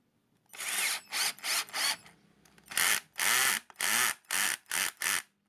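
A cordless drill drives a screw in a series of short, loud whirring bursts close by, with a brief pause between two groups of pulses.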